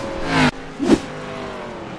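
Race cars roaring past in a racing video game, two loud engine sweeps in quick succession, the first building then cutting off sharply, the second a brief whoosh, over a steady engine drone.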